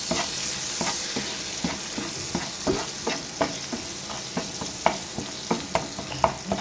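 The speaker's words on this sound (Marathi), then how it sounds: "सांसवां जिरें आनी कडी लिव्स ओके. पयलीं बरें भाजून घेवपाचें." Mustard seeds, cumin and curry leaves frying in hot oil for a Goan pepper egg dish, a constant sizzle with repeated sharp pops and crackles of spitting seeds, close and steady with no talking.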